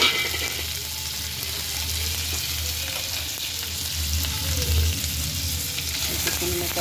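Boiled potatoes tossed gently into frying spices for a spicy aloo tamatar sabzi, a loud dense sizzle running throughout with soft stirring movements beneath it, close up.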